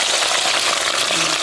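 Potato slices for crunchy chips sizzle in hot oil, a dense, steady crackling hiss that stays close and even throughout, with no talk over it.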